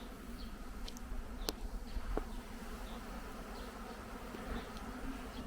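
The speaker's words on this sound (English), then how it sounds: "There are hundreds of bees, thousands of bees right next to me right now." Thousands of honey bees swarm near beehives, a dense, steady buzzing drone close by, fairly quiet overall with occasional brief clicks.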